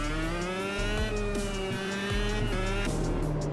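Mini race cars in the Automobilista 2 sim race through the Monaco street circuit, a loud buzzing engine note that climbs and then drops sharply with each gear change, close and without pause.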